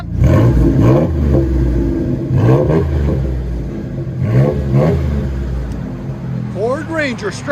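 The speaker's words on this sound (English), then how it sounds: "Ford Ranger straight pipe with 5 catalytic converters." Ford Ranger 3.0L V6 on a straight-pipe exhaust with five catalytic converters, blipped repeatedly up from idle; four loud, near revs rise and fall over a deep rumble, with a brief voice near the end.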